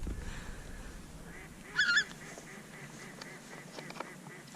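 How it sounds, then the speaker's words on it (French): Ducks call out from a night hunting hut, a short burst of honking quacks rising briefly over quiet outdoor background noise, somewhat distant. "Un canard."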